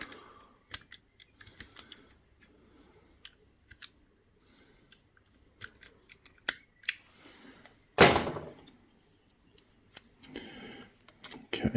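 A knife cutting and peeling tape and insulation from the ignition wiring of a Honda CB750 K2 motorcycle, heard as sparse close clicks and scrapes, then a louder tearing rip, all fairly quiet.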